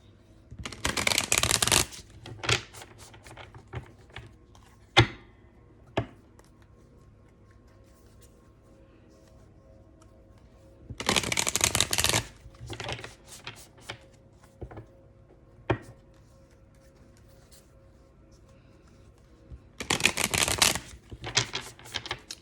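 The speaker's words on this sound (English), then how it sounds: "you guys are watching me shuffle for a minute" Three bursts of tarot card shuffling, each a rapid riffling clatter lasting a second or two, separated by quiet stretches with a few soft taps and clicks.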